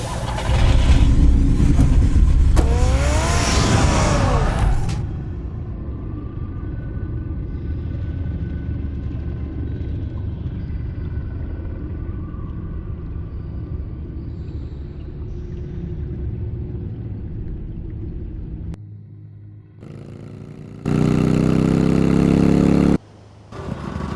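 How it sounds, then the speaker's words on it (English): Car engine in the Batman Telltale Series game rumbles loudly, with a rising rev burst early on, then a steady driving drone that drops away briefly before a final loud surge. "Get the car ready, Alfred."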